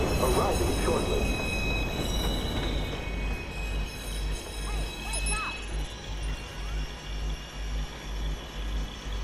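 A train pulls into a station in the video game Watch Dogs with a heavy low rumble, clattering wheels and high metallic squeals that ease off as it slows, leaving a steady hum.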